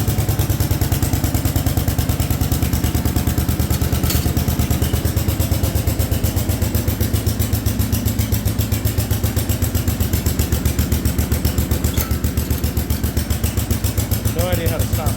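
The engine of an Allis Chalmers garden tractor runs with the PTO engaged, giving a loud, close, steady rhythmic chugging and clatter that lasts throughout without a break.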